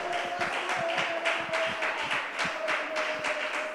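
A church congregation claps in steady rhythm during a worship service, a continuous run of even beats over a sustained musical tone.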